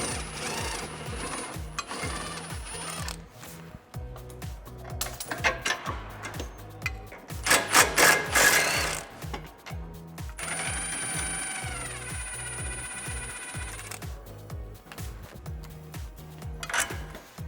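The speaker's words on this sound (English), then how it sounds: "the next step is to remove our 15 millimeter bolt that attaches our factory shock" A 15 mm shock bolt coming off a 2005-2014 Mustang during a spring and shock kit install, with bursts of a power tool's whirring drive separated by metallic clinks and clatter, close and fairly loud, with no talking.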